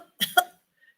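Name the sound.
storyteller imitating a wolf gagging and coughing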